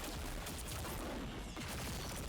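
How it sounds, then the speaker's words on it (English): Jubilee's firework clusters ability in the Marvel Rivals video game: a loud, dense barrage of crackling, popping bursts that roars continuously with no pause. "charge up and unleash a massive ring of outward flying firework clusters launching up nearby enemies"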